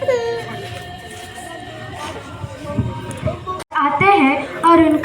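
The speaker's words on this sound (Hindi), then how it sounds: "अरे ये तो बच्चे की रोने की आवाज है।" A baby cries and whimpers in uneven bursts amid background chatter, then the wailing grows louder and more insistent after a brief cut.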